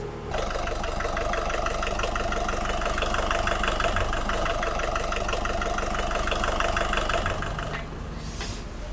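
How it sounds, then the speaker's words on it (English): Boat engines with saildrives rumble steadily at close range with a dense mechanical idle, cutting out near the end before a brief burst of noise. "Can I start the engines, bro?"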